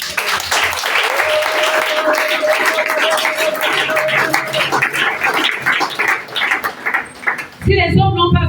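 A church congregation claps to acclaim the Lord in a rapid, sustained burst of applause. It carries on for several seconds with a held tone beneath it, then thins out before a brief, different sound cuts in at the end.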